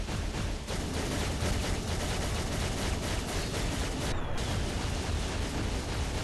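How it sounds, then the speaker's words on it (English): Fireworks burst off in Marvel Future Fight, a dense, continuous barrage of crackling pops and bangs layered loudly over one another for several seconds, with no voices. "I love the little fireworks firing off too"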